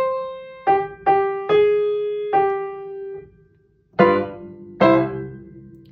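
A piano plays the last line of Shave and a Haircut as written: six distinct struck notes in the familiar rhythm, each ringing and decaying, with a short pause before the final two. It is played alone and clearly.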